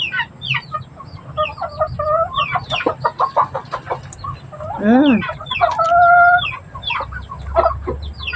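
Several chickens cluck and crow in a busy, overlapping chorus, close by, with a brief hum from a person partway through.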